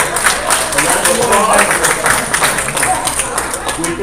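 Meeting audience at a town board session applauding, a dense steady wash of many hands clapping throughout, fairly loud and close, with faint room murmur underneath.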